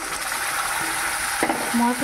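Spices hit fried onions in a pan, a loud hissing sizzle that swells briefly near the end, heard close for a short moment.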